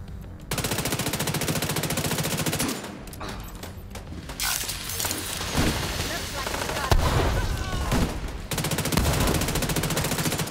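Sustained bursts of automatic gunfire in a shooter game, loud and dense, with rapid rattling volleys broken by brief pauses and scattered heavier impacts.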